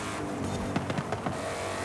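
A Ford Mustang, rear-wheel drive, driving in Forza Horizon 5, with a steady sustained engine drone under a few quick gear-shift-like blips, moderately loud and continuous.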